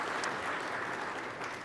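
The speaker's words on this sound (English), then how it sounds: "A round of applause for them as well." An audience claps for the panelists at a civic forum, with brief, dense, steady applause from a crowd, fairly faint and without talk.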